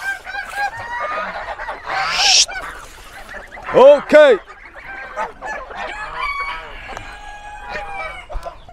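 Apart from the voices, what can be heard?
chickens and poultry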